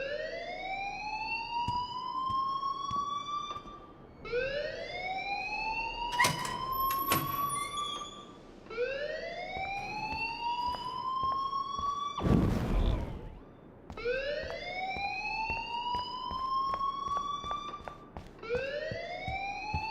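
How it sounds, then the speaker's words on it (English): An alarm in the video game Life is Strange, a loud repeating rising electronic siren tone that sweeps upward in regular cycles of about four seconds, with a couple of brief clattering sounds mixed in. "please turn off that alarm since that's your job"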